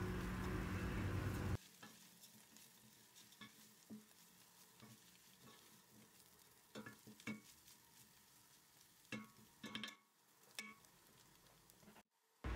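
Thin vermicelli noodles toasting in a pot for chicken soup, a soft steady sizzle broken by repeated scraping stirs and clinks of a spoon against the pot, close and alone.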